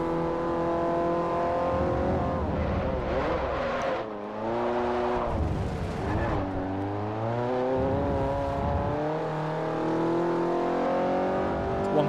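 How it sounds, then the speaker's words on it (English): A rally car engine in Forza Motorsport 4 drones and revs steadily, the pitch rising and falling through gear changes for the whole stretch, loud and close with no talk. "I decided I wanted to do some rally driving."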